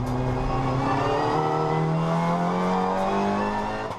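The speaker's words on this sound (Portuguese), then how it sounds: "Francisco Moura saiu da pole position e fez um bom arranque para assumir a frente da corrida." Touring race cars at a national touring car championship race start roar together at full throttle, engines revving and rising in pitch, loud and continuous with no voices.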